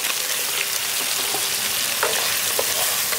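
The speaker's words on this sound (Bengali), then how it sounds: "এবার এর মধ্যে আমি পকোড়া পটলগুলো দিয়ে দিচ্ছি" Fried pointed gourd pakoras hit a pan of spiced masala and sizzle steadily, with scraping stir strokes and small clinks over the continuous frying hiss.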